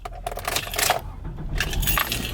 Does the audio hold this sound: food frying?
no